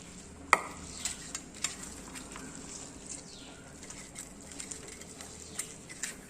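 Onions fry in a pan for homemade jackfruit fritters, a soft, continuous sizzle broken by stirring scrapes and a sharp metallic clank near the start, with quieter clicks scattered throughout.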